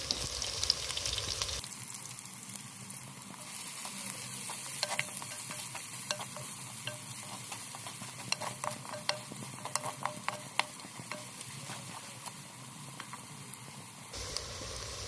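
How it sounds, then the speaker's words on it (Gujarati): Ginger paste frying in a pan for a Gujarati tuver totha dish, with a steady close sizzle under repeated stirring scrapes and small crackles running throughout. "પછી જે આપણે આદુ નાખેલું છે પેસ્ટ કરેલું એ બધું નાખી દઈએ આપણે"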